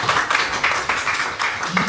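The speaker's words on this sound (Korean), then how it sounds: "박수 한번 주시죠" A seminar audience at a Bucheon cultural centre gives continuous applause, a dense crackle of many hands clapping nearby, rising and falling slightly over two seconds.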